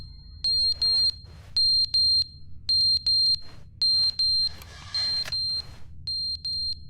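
A timer alarm in the video game The Stanley Parable beeps in a steady repeating pattern of paired high electronic tones with short gaps, loud and clear over a low background hum, with no talk.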